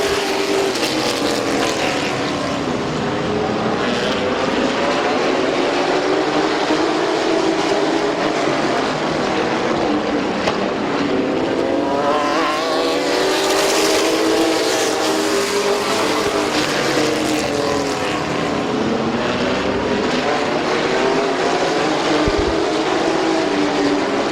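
Race cars roar around the oval at Midvale Speedway, a dense, continuous engine drone with rising and falling Doppler sweeps as the pack passes close by, loud throughout with no talk.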